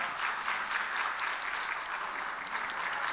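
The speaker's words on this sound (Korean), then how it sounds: "박수해 주시기 바랍니다" A congregation at a Korean evening church service, held for an international school entrance ceremony, claps for a pastor in a steady, even round of applause that fills the short clip.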